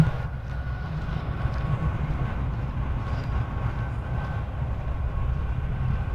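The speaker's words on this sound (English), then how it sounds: "Oh, a big freight train." A big freight train passes fast, giving a steady, loud low rumble with a continuous rolling roar that holds level throughout, no voices over it.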